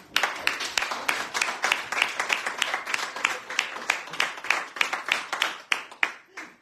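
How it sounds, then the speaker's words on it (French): Audience applauding during a French radio bistro broadcast, a dense run of steady, fairly close hand claps that continues evenly for several seconds. "pour ça nous on les aime bien et on les applaudit"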